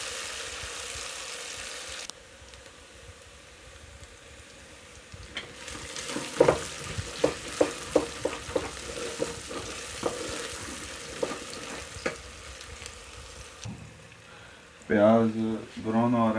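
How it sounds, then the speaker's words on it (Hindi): Onions frying until brown in a pan for a turnip stir fry, a steady sizzle with sharp spatula stirring taps in the middle, and a voice speaking near the end. "प्याज ब्राउन हो रहा है।"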